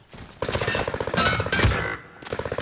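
Rapid bursts of video-game gunfire aimed at the player, dense repeated shots in two clusters with a brief lull between them, loud and close.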